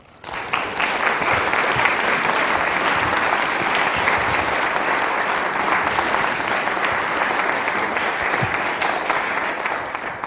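A live audience welcomes the author Will Self onto the stage with sustained, dense applause that holds steady for about ten seconds before tapering slightly, with no voices over it.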